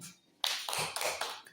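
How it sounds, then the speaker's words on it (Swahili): A group of people clapping hands in a classroom, a burst of quick, close, fairly loud claps starting suddenly and continuing in an uneven rhythm before fading. "Mpigeni makofi."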